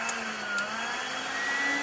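A small electric vacuum pump on a 2000 Pontiac Grand Prix GT 3800 drones steadily with a constant mid-pitched whine, a couple of faint clicks near the start, running close under engine noise.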